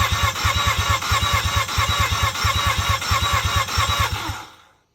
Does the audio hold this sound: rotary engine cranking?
yes